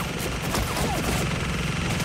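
A giant gun in Gears of War 4 fires in a dense, continuous stream of loud rapid shots over a roaring battle background.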